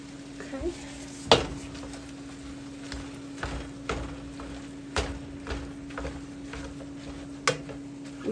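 Browning beef and pork sausage seasoned with Italian seasoning and Lowry's seasoning salt is stirred in a pan. A spoon clacks sharply against the pan at irregular intervals over a low steady hum, with no one speaking.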